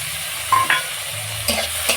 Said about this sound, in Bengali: এই মশলাটাও আমি খুব ভালো করে কষিয়ে নেব